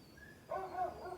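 A pet dog gives a single short bark, fairly close and moderately loud, breaking into an otherwise quiet indoor room tone.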